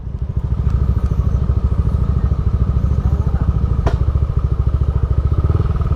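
A motorcycle engine idles steadily up close at a campsite near a waterfall, its rapid, even pulsing continuous and loud throughout, with a brief sharp click partway through.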